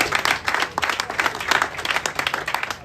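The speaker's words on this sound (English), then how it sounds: "If you can give them a round of applause" A crowd gives a round of applause at a political press conference, steady and full throughout, without a break.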